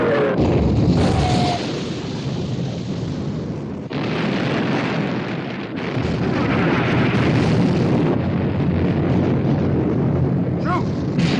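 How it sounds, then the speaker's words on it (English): Heavy naval gunfire rings out as the warships Bismarck and Prince of Wales exchange fire in a 1960 war film, deep booming blasts and rumbling roar filling the scene with loud sustained explosive noise. "Prince of Wales and Bismarck exchanging fire."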